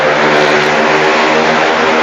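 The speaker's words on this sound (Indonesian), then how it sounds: "berisik nih motor." Loud, steady engine roar with a harsh broadband rumble, close by and continuous, like a motorcycle exhaust idling or revving without pause.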